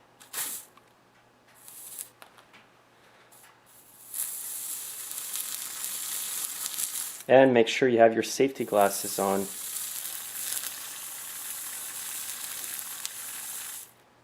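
Penetrating oil sprayed onto a hot engine to free seized piston rings sizzles with a sustained loud hiss, and a person speaks briefly partway through.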